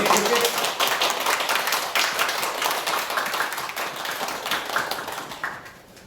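A room full of people at a Sunday church service applauds steadily for several seconds, the clapping dense and even before tapering off at the end.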